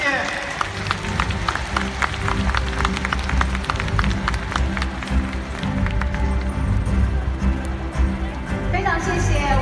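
Sustained applause fills a large hall at a Jeunesse double-diamond forum in Hong Kong, dense, even crowd clapping at steady loudness with a few sharper claps standing out from the mass.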